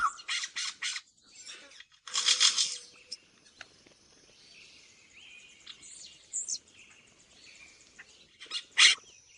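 Cacique birds calling and mimicking other birds: loud, harsh squawks and bright whistled bursts come in clusters, with quieter warbling and chattering notes between them, close and clear against a quiet background.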